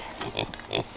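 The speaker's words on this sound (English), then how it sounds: "Good morning, little pigs." Piglets in a pen grunting softly in the morning, a few short, faint oinks close by over low background noise.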